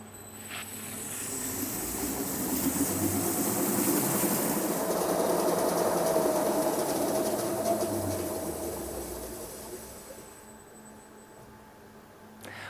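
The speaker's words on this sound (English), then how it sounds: "I'm gonna take the machine to 200 meters per minute," An LR250+ label inspection rewinder runs up to full speed at 200 metres per minute, a steady loud mechanical whir and hum that builds, holds, then tapers off smoothly as the machine slows to a soft stop.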